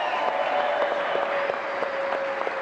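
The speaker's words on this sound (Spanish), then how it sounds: "Vamos a enviarle un aplauso también a las muchachas de la selección del softball nacional." Steady audience applause for the national women's softball team during a televised presidential broadcast, a dense continuous wash of clapping at moderate distance with a faint sustained tone running beneath it.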